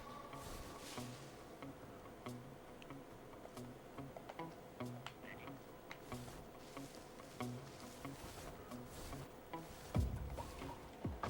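Bees buzz near a beehive in the stealth game Metal Gear Solid 3, a steady insect drone with faint ticking, running on without any talk and ending in a low thump.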